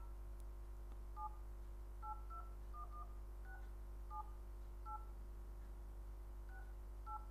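Touch-tone keys are dialed on a phone to place a prank call. About ten short, clean dialing beeps come in an uneven sequence over a steady low hum, with no talking.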